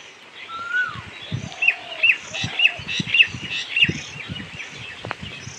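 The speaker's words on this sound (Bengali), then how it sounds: "এই যে অনেক শালিক পাখি, এই যে সব বসে দেখতে পাচ্ছেন ডালে" Several common myna birds perched on branches chirp and call in a quick, bright series of short notes, moderately close, with no one talking.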